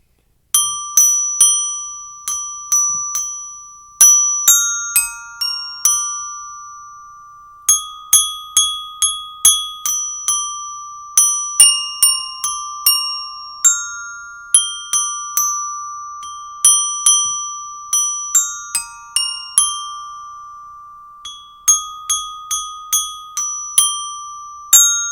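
The melody of Jingle Bells rings out on bright metal orchestra bells, each struck note clear and decaying, played alone at a steady pace.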